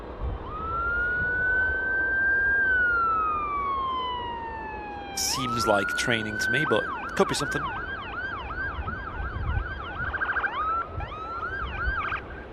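A Manchester Airport fire engine's siren wails and rises as the crew moves out, sweeping tones shifting to a fast warbling yelp, loud and fairly close over outdoor ambience, with someone briefly talking over it.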